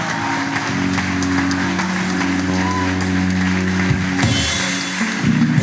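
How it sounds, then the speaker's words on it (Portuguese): A church congregation at a Christian conference applauds, brisk clapping from many hands layered over sustained keyboard or organ tones, lively and continuous with a busier surge near the end. "Vamos dar um forte aplauso ao Senhor."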